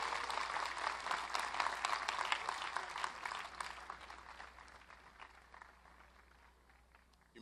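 Applause from the audience at a college commencement ceremony, a dense burst of clapping that swells early, then gradually thins and fades over several seconds, heard at moderate distance.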